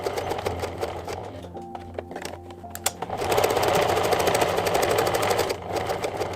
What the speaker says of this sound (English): To top stitch all around the edge, I'm going to align the edge of the project to the gap in my presser foot